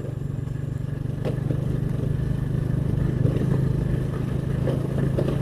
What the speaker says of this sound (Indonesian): Masih bisa dengar suara motor gue sendiri pokoknya.